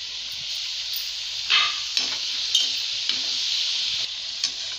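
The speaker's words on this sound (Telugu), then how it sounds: "మన మైదా బిస్కెట్స్ గోల్డెన్ కలర్ వచ్చే వరకు వేయించుకోండి." Maida diamond chips deep frying in hot oil, a steady bright hiss and sizzle throughout with a few soft bursts and clinks, close by and without speech.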